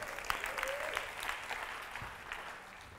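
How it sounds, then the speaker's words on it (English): Audience applause for a volunteer at a talk on why diets may not work, moderate and steady throughout the short stretch, heard from within a lecture hall. "give her a big round of applause."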